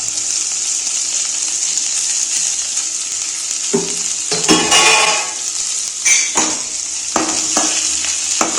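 Chicken frying in a pan for South Indian pepper chicken fry as onion is added, a loud continuous sizzle with bursts of crackling and stirring scrapes, no talking.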